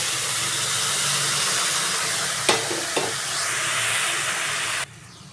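Grated carrots and milk stirred in a pan over a medium flame for gajar halwa, giving a steady sizzling, bubbling hiss with a couple of sharp scrapes of the spoon partway through, then stopping abruptly near the end.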